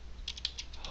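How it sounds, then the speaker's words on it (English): Light, quick keystrokes on a computer keyboard, about six soft clicks in a short burst, faint and close with no voice. "in here you want to type"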